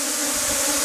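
Honeybees buzz in a steady, dense drone as they attack a powered venom-collection device, the swarm sound close and continuous throughout.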